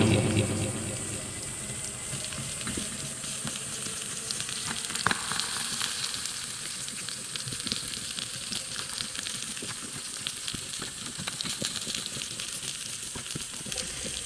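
Onion and chili fry in oil in a tiny miniature pan, a dense continuous sizzle with fine crackles and occasional light scrapes, close and steady from start to finish, no voices over it.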